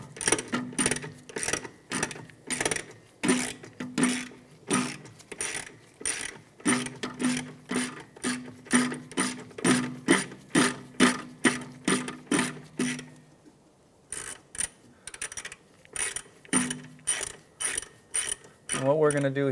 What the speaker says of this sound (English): we're just going to take this bolt out here, which will give us a little more room to remove our caliper